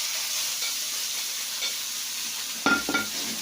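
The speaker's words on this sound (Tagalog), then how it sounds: "igisa ko muna yung giniling para maluto" Ground pork sautéing in a pan for a Filipino pork giniling omelette, a steady soft sizzle and hiss with a couple of brief stirring scrapes near the end.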